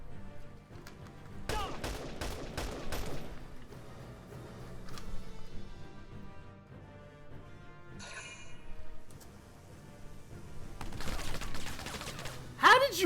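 Bursts of gunfire from the Valkyria Chronicles 4 video game, several rapid volleys of sharp shots with pauses between them, under a game soundtrack and a speaking voice.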